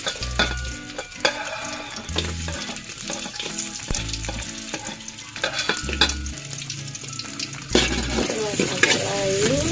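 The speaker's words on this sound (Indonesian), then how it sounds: "Setelah mendidih kita masukkan bawang putih." Garlic frying in a pan of hot oil while being stirred, a continuous crackling sizzle broken by regular scraping strokes of the spatula, close and loud.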